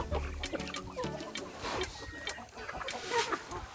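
Free-range chickens cluck and call repeatedly in a busy outdoor flock, with overlapping nearby bird calls at steady loudness throughout.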